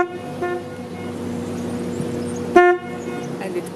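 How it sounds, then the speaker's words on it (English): A rental canal boat on the Canal du Midi gives a short horn hoot before the Malpas tunnel, sounding over a steady engine drone that runs throughout. "One more last hoot."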